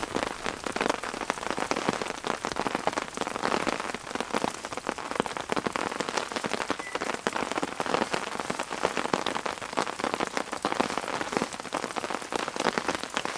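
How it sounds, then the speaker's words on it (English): Steady heavy rain patters on a hard surface at a campsite, a dense, continuous hiss of drops at an even level with no voices. "we're supposed to have consistent rain like this though right through till about 10 p.m."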